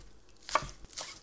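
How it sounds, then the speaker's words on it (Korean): Knife chopping green onions into roughly 1 cm pieces on a cutting board, a couple of close, crisp cuts with a brief knock in a quiet kitchen. "쪽파는 한 1cm 정도로 잘라줄게요."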